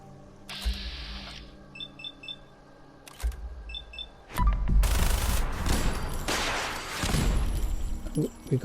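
An explosive minigun in Fallout 4 at Gunner's Plaza, a few short bursts, then a long, loud, dense barrage of rapid shots and blasts through the second half.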